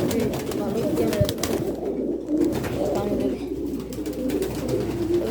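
Pigeons coo in a loft, a steady, close murmur of low throaty calls that runs throughout with faint shuffling and movement behind it.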